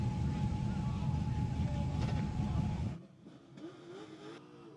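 A race car engine roars loud and steady with a strained, rising note during a missed shift and downshift, then cuts off abruptly, leaving a quieter idle-like hum behind faint voices.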